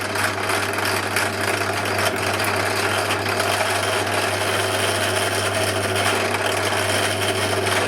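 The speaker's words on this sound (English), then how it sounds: "You don't want the drill to get hot because it will melt the plastic" An electric drill bores into plastic, whirring continuously and loudly with a steady motor hum and a gritty grinding texture throughout.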